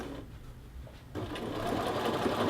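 A sewing machine edge-stitches the collar band of a men's shirt. It runs quietly at first, then speeds into a steady, rapid whirring stitch that builds slightly in loudness, close by.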